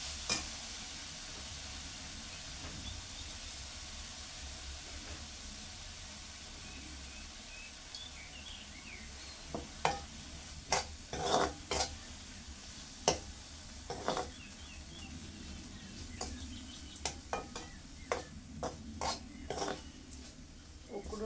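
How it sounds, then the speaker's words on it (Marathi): Boiled, chopped flowers are stirred in a pan, with a faint sizzle under intermittent sharp scrapes and clinks of a spatula against the metal, coming in bursts during the second half. "उकडून घेतलेली फुलं यामध्ये परतवून घेऊया."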